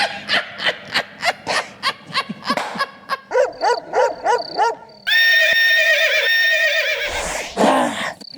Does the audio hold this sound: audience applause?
no